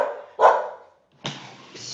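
Dogs give two sharp barks about a second apart, loud and close, the second ringing out a bit longer, with no talk.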